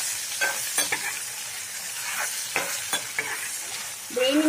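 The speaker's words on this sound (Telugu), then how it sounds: "కొంచెం పసుపు, వేసుకొని కలుపుకోవాలి." Goat brain fry is stirred in a pan after turmeric goes in, with a gentle sizzle under repeated scraping and clinking spoon strokes. A louder clatter comes near the end.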